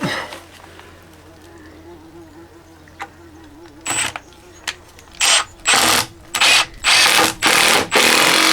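A power drill drives screws into a log outdoors, with a faint whine early on, then a string of loud, close bursts of motor whir in quick succession toward the end.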